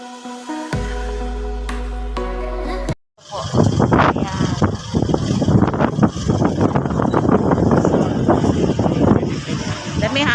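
Strong wind buffets the microphone outside Caloocan City Hall with a loud, steady roar after a brief burst of music cuts off.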